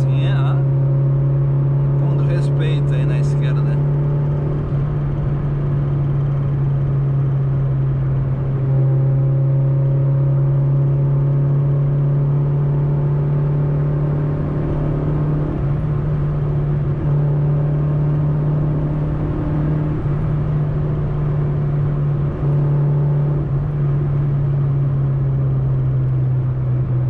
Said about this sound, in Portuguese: o ronco da indução na estrada fica muito, muito alto mesmo